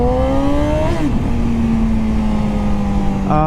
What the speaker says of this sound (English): God, I love hearing these downshifts too.